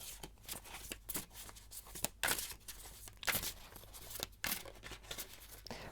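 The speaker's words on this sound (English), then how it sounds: "I'm gonna shuffle some more cards." Tarot cards are shuffled in quick, soft riffling bursts, a faint papery flutter repeating irregularly at close range.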